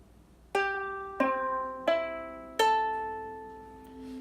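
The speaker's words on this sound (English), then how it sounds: "once you have your ukulele completely in tune, it should sound like this" Four separate ukulele strums, each a bright, clean, in-tune chord that rings out and slowly decays, heard alone in a quiet room.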